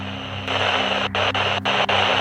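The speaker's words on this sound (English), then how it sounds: "It does have some effect on the white noise that you're hearing" Radio static fills the air as a harsh, loud hiss of white noise, broken by a few sharp dropouts and brief gaps as the tuning shifts.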